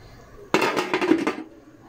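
Metal pot lid set down over fish cooking in a pot: a sharp clanking contact followed by a short rattling clatter as the lid settles, close and distinct, lasting under a second.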